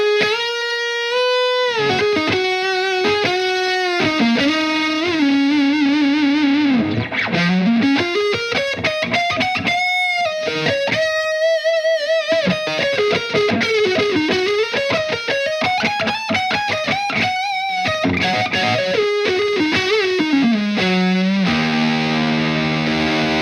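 Electric guitar lead on the neck pickup through a Soldano SLO overdrive pedal, a creamy distorted tone with sustained bends and legato runs, playing loud and continuous with no talk.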